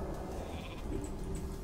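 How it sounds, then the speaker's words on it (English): Sheep bleat in World of Warcraft TBC Classic during PvP play, a few quiet, wavering bleats over a steady game background, with no talking. "Oh, nice sheep."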